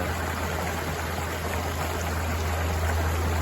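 A rain-swollen creek rushes loud and steady after heavy overnight rain, a dense continuous roar of water running high, close and unbroken throughout with no voices.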